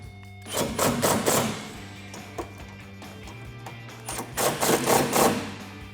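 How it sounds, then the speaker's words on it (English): Power driver running screws with a Torx bit into tail light guards on a 2009-2018 Ram 1500, two loud whirring bursts about a second long separated by a pause, over a steady low hum. "then we'll drive them home with our Torx bit"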